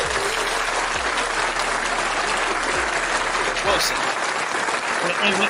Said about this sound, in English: Let's give that man a round of applause.